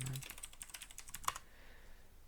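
Keys clatter on a German-layout computer keyboard in a quick burst of close, crisp strokes, then one sharper press before the tapping stops.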